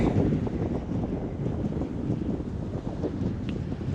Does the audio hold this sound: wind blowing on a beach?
yes